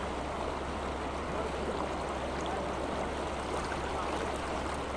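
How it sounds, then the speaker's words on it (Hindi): Flowing river water on the Ganga riverbank makes a steady, even rush that fills the whole span without pause or change. "पानी की आवाज़ को, इस साउंड को"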